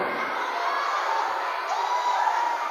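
A large audience of students at a motivational seminar for thousands of Gontor Putri Campus 5 schoolgirls in Indonesia, breaking into a loud, dense burst of clapping and cheering that carries on steadily throughout.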